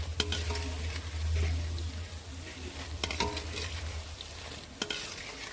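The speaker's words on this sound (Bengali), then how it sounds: "ভাজতে বেশি সময় লাগে না বুঁদেটা ভাজা হয়ে গেছে এটা তুলে নিচ্ছি" Boondi fry in hot oil with a steady close sizzle, broken by a few sharp metallic clinks and scrapes from a slotted spoon against the pan, and no talking.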